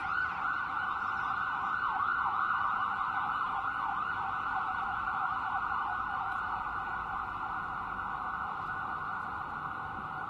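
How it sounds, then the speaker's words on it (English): An ambulance siren passing by outdoors in a city, a steady wailing tone that holds loud and unbroken for the whole stretch with faint traffic rumble beneath. "there's an ambulance going by."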